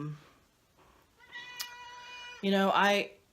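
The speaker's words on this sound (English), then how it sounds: "That's my other cat." A cat lets out a loud, drawn-out meow near the end, close by, after a person speaks softly over a quiet room background.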